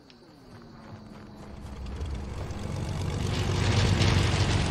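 Propeller airplane engine in the Fortnite video game, a steady droning hum that swells louder and closer over a few seconds, heard alone with no talking.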